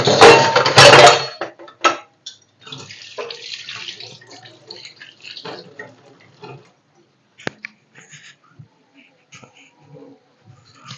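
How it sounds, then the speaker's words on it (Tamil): Mustard seeds, cumin and pepper pop while frying in hot oil for mutton chukka. A loud sizzling burst opens, followed by scattered sharp pops and crackles that thin out over time. "கடுகு சீரகம் மிளகெல்லாம் அப்படியே பாப்பப் ஆகும் சவுண்டு வரும்"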